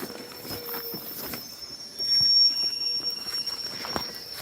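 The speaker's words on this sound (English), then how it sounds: "as we wait for our train, which is arriving in a few more minutes" A train pulls into a station in Sweden, its steady rolling rumble swelling midway with thin, sustained wheel squeals riding over it, heard up close without any speech.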